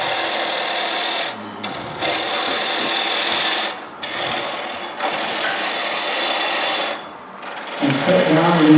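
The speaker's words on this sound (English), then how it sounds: "I'm going to cut away that tenon that I had." Lathe tool cutting away the tenon of a wooden natural-edge square bowl, a loud sustained grinding rasp broken by brief pauses as the tool lifts and re-engages.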